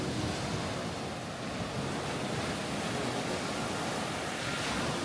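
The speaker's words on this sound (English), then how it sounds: "So we're here on the beach. It is very wavy indeed." Ocean waves wash onto a Caribbean beach in a continuous, loud broadband roar with wind buffeting the microphone, steady for the whole stretch, no voices.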